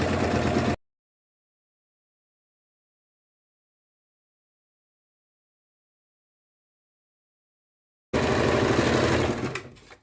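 A sewing machine stitches trouser fabric in two short, loud, close whirring bursts, one at the very start and one near the end, separated by a long silence.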